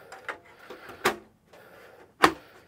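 A metal cover of an Amcrest NV4208E-AI network video recorder slides back into place, making a few short scraping clicks and two sharp metallic clacks close by, with quiet pauses between them.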